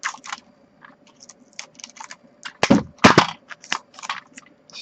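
Ordinary adhesive tape is pulled and pressed over a blade while making a magic flap card, giving a series of short, close crackling and peeling sounds with two louder rips midway.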